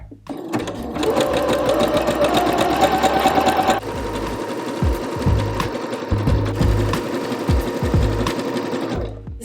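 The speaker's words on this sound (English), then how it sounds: "And then I'm just gonna sew with it stretched up to here." A sewing machine stitches elastic held stretched onto fabric for homemade underwear, a loud steady mechanical whir with a rapid needle rhythm that runs continuously and then changes pace partway through.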